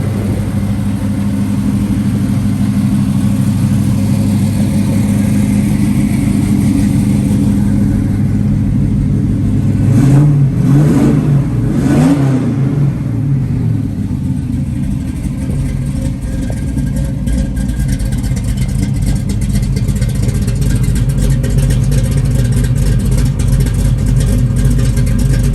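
A 1969 Chevrolet Camaro V8 with an aggressive cam rumbles steadily at idle up close, then gets a couple of quick throttle blips around the middle before settling back into its loping, low idle.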